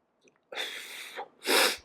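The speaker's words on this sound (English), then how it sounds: "hold on, I'm going to sneeze." A single close human sneeze during an audiobook reading: a short inhaled build-up, then a sharp, loud burst of breath.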